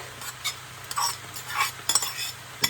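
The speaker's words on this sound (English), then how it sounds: "I'm going to add my onion mixture. This is onions, garlic." Onion and garlic mixture hitting hot oil for dry mince, with a low steady sizzle under light clinks and scrapes of a utensil against the pan, close and moderately quiet.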